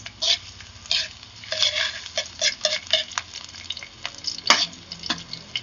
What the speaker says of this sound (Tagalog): Okay, bawang. Tapos, inimix po natin.